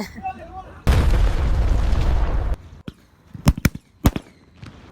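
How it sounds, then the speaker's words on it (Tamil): A string of homemade paper firecrackers makes a long, dense roar of rapid bangs for a couple of seconds, followed by several separate sharp cracks spaced apart, loud and close. "ஃபர்ஸ்ட் இந்த சரவெடியை வெடிப்போம்"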